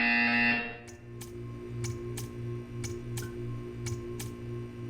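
In Portal 2, a loud electronic buzzer sounds for about half a second, then cuts off into a quieter hum with a run of evenly spaced ticks.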